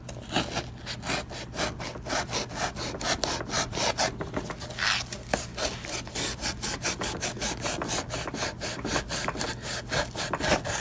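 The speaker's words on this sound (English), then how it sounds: "It's kind of like cutting a box open with a butter knife" A dull knife saws through a cardboard box with rapid, steady back-and-forth rasping strokes, close and continuous for several seconds, with no voices.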